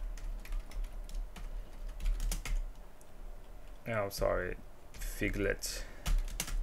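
Keys clatter on a computer keyboard as a terminal command is typed on Kali Linux, quick clustered clicks near the mic between stretches of speech.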